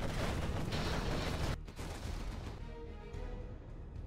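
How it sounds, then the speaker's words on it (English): Dense, rumbling bursts of artillery and explosions roar continuously in a Command & Conquer Generals Zero Hour battle, then cut off abruptly and give way to quieter, scattered booms and game noise. "Don't know where to shoot the artillery."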